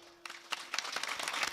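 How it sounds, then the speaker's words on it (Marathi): At a Shiv Mahapuran katha gathering, an audience begins clapping, with faint, scattered claps that thicken into soft, distant applause. "त्यांच्यासाठी आता टाळ्या वाजवा"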